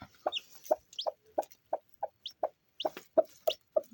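A broody hen clucks repeatedly in short, evenly spaced bursts, with a few higher chirps mixed in, fairly close and otherwise quiet.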